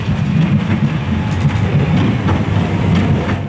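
A tram runs on its tracks between Katowice and Chorzów, with a loud, steady rolling rumble and faint rhythmic wheel clatter heard close up throughout.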